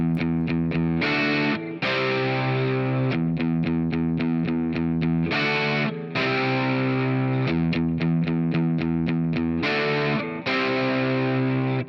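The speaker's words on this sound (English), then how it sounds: "I'm palm muting on that first bar and no palm mute, and it alternates" A heavily distorted electric guitar playing an intro riff, tight chugging palm-muted bursts alternating with ringing open chords, loud and steady with no voices.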